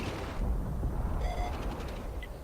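A Centurion tank's cannon shot in World of Tanks, a deep booming blast with a rumbling low end that stays heavy through the clip, with a faint tonal ping of game effects layered on top.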